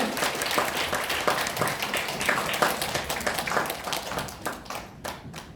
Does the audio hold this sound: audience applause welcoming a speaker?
yes